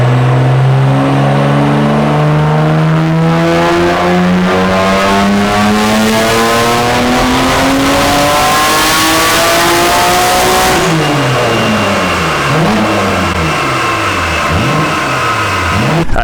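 A Nissan GT-R engine revs steadily upward for about ten seconds, then blips repeatedly between gears, loud and close, with no voices.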